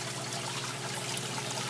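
Water pours steadily from a small gray bucket down into an aquaponic fish tank, a constant close splashing rush with no pauses and no voices.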